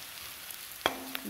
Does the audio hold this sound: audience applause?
no